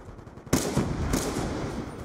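Shotgun fire in the shooter Black Ops 2 breaks a quiet moment with a sharp blast, followed by a dense, rumbling spread of further gunfire and clatter that stays busy and moderately loud.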